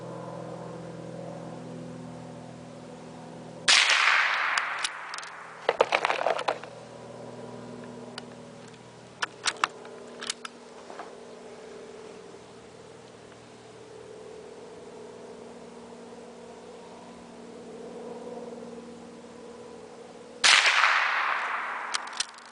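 A Davey Crickett .22 LR youth rifle fires outdoors at a 50-yard target, with sharp cracks near the start and end and a few smaller clicks and knocks between them over steady background hum, and no talking.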